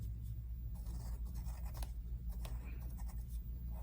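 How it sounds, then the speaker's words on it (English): A charcoal pencil scratches across paper into a stencil, a close, quiet, continuous rasping of strokes with faint low hum underneath and no talking. "I can draw into my stencils."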